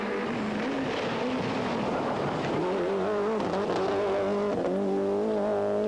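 A privateer Toyota rally car drives through a 1994 rally stage, its engine droning steadily with rising and falling pitch as it accelerates, continuous and fairly close.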